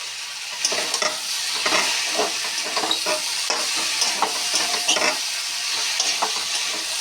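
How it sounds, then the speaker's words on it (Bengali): Drumsticks and fried potatoes are stirred and fried in a pan with a steady, close sizzle and repeated scraping strokes of the spoon throughout, without any talk. "ভালোভাবে নেড়ে ছেড়ে ভাজা করে নিচ্ছি"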